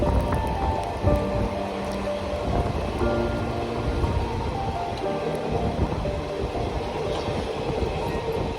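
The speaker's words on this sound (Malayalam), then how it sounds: "അടിപൊളി മഴ" Heavy rain pours in a constant dense hiss over the rumble and rattle of a moving train travelling to Palani.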